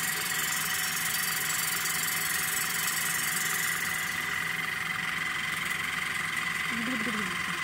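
A small water flosser motor hums and whirs continuously at close range, a steady mechanical buzz with a faint rattle.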